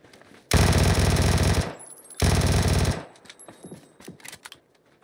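Automatic gunfire in a video game: two loud, sustained bursts of rapid shots separated by a short gap, followed by quieter scattered shots and clatter.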